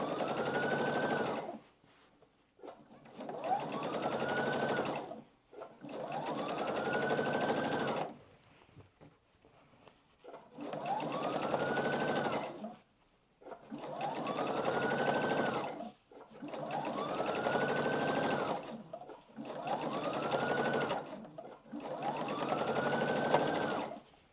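A sewing machine stitches a quilted table runner with a 1/4 inch foot, running in eight steady close bursts separated by short pauses, each burst a whirring hum that winds up and holds.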